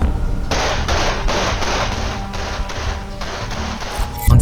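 Gunfire inside a store on CCTV footage, a rapid series of sharp, loud bursts repeating roughly every half second, with a heavier thump at the end.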